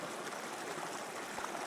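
Water rushes steadily through a city fountain built to sound like a Sierra mountain stream, a dense, even wash of flow with no voices.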